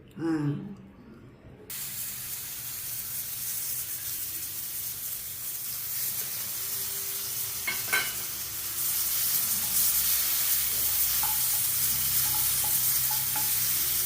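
Banana flower, garlic and tomato sauté in a pan for chutney, producing a steady broadband sizzle that grows louder partway through, with a few light utensil knocks.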